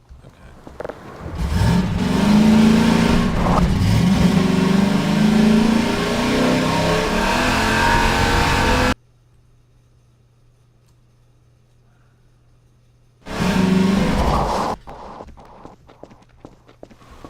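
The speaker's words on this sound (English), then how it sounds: "The audio for the Buggy was challenging because we wanted to feel like a really powerful vehicle" The Half-Life 2 dune buggy's powerful engine revs up hard and roars for several seconds, cuts to near silence, then bursts back briefly before fading.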